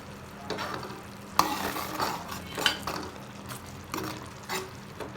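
Plum chutney simmers and sizzles in a pan while a spoon stirs it, giving soft bubbling with several light scraping and clinking strokes against the metal, close and clear with no talking.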